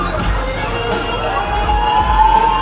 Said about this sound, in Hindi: बहुत भीड़ है यहाँ पर।